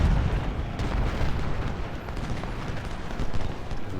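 Booming cannon fire in the Civil War strategy game Ultimate General Civil War, a dense, continuous rumble of overlapping blasts and low thuds that stays loud throughout, with no talking.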